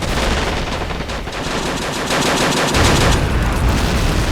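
Rapid .50 cal machine gun fire in the Men of War: Assault Squad 2 game, loud continuous bursts of rattling shots with no pause, filling the whole stretch without talk.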